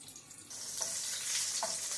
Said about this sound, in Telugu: ముందుగా ప్యాన్ వేడి చేసి అందులో ఆయిల్ వేసుకొని పచ్చిమిర్చి వేపుకుందాం.